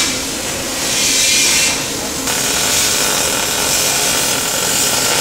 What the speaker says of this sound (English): That was 2 feet of welding.